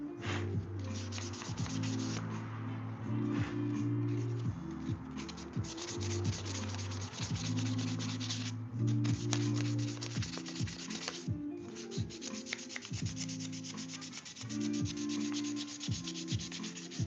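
A wooden cutting board being burnished: repeated rubbing strokes in an uneven rhythm, close and fairly quiet, with brief pauses between passes.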